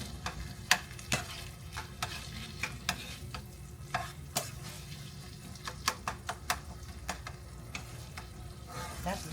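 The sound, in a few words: stirring taco meat frying in a pan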